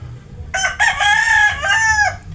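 A white hatch crossbreed gamecock crows once, loud and close, a harsh multi-part call lasting under two seconds that opens with a short note then stretches into a long wavering cry.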